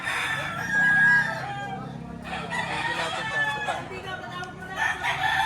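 A pumpkin full stag, a young rooster, crows loudly nearby, its drawn-out call repeating over clucks and background chatter from people at a poultry sale.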